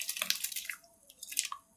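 Raw rice drops into boiling salted water for Peshawari-style chicken biryani, making close, crisp patters and small splashes in a couple of quick bursts over less than two seconds, with no talking.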